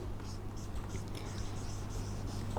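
Pen scratching on paper in short strokes during a maths lesson, a soft continuous scribble with a low hum beneath.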